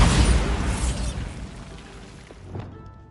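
A Bombarda blasting spell explodes in Hogwarts Legacy with a loud broadband boom that decays over about two seconds, followed by a smaller burst near the end.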